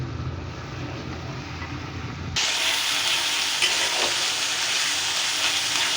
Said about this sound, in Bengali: এটাকে একটু সুন্দর করে ভেজে নিতে হবে